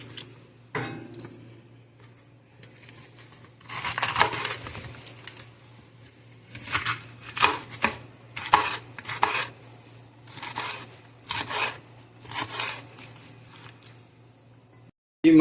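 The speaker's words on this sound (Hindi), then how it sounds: "इसे हम इंशाल्लाह इसको काट रहे हैं स्लाइसिस में।" Knife slicing through ingredients on a cutting board while preparing spicy chicken noodles, heard as a series of crisp, close chopping taps in irregular bursts, some fast runs of strokes, with no talking.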